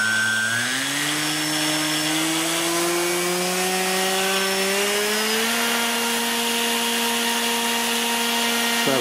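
A small RC electric motor whines steadily under power on a watt meter, its pitch stepping up twice as it is revved, loud and close, with no talking.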